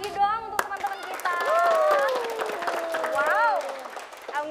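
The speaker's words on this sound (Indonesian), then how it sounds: "Tepuk tangan sekali lagi dong untuk teman-teman kita." Clapping from an audience at an elementary school children's event, scattered hand claps under loud sung or chanted voices and music, fairly close and uneven.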